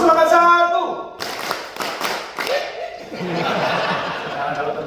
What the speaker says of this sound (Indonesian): Ya. Tepuk semangat satu.